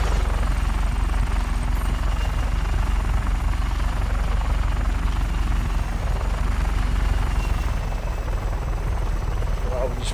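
A helicopter in the video game Just Cause 3 gives a continuous, loud rotor thrum that holds steady throughout, with no other sounds on top.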